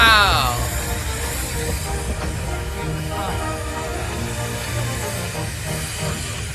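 A steam locomotive on the Festiniog Railway, a narrow-gauge line built to carry slate, hisses steadily with a brief whistle-like tone at the start and soft rhythmic chuffing beneath, fairly close, with a little talk in the background.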